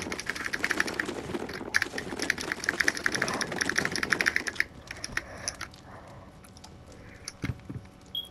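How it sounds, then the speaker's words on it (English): Clicky new computer keyboard typed on rapidly and steadily for about four seconds, close and fairly loud, then only a few scattered keystrokes and faint room noise. "sorry guys, if my keyboard's clicking,"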